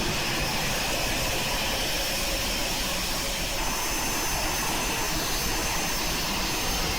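An Aerobask Eclipse 550NG jet taxis in the X-Plane 11 flight simulator. A steady, loud jet whine and broadband roar run unbroken throughout, with no voices.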